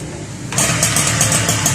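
A 1979 Yamaha QT50 moped engine catches after a quiet lead-in, then runs with a steady, pulsing buzz at close range, with no talking.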